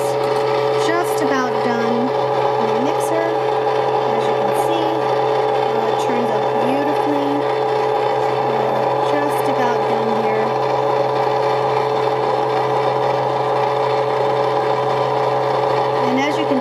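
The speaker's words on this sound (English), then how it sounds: "The machine is supposed to make an inordinate amount of noise" A Cuisinart ice cream maker runs with a loud, steady motor whine and hum, close by, and a fluctuating pitched tone rises and falls throughout.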